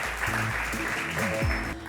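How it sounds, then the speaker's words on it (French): Studio audience applauds the participants of a French game show, a steady dense clapping wash under musical tones, near and continuous for two seconds. "applaudissez, s'il vous plaît, les participants"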